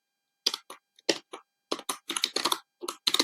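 A computer keyboard typed in a short burst of separate, crisp keystrokes, a handful of clicks with brief gaps between them, close and alone in an otherwise silent room.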